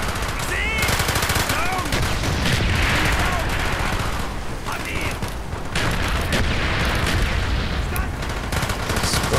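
Bursts of automatic rifle fire crackle through a Call of Duty Black Ops mission, loud and nearly continuous with rapid repeated shots, overlapping explosions and game effects, with a voice talking briefly over the battle.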